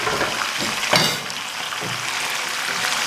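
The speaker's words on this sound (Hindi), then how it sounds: "इसमें हम 600 ग्राम बीफ है, ये डाल देंगे और हम बीफ को फ्राई करेंगे कलर चेंज होने तक" Beef frying with onions in a kadai gives a steady hiss and sizzle, with a brief louder crackle as the meat goes in and stirring scrapes after.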